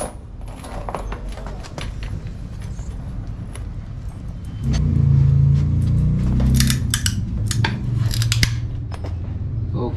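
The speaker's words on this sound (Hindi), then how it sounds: "ये है कैंची जापान की ये देखिए ये चैन काटने में काम आता है" A Japanese-made hand chain cutter shears through a heavy crane chain at a ship-parts market, a heavy crunching strain swelling midway with sharp metallic clicks and snaps amid market noise.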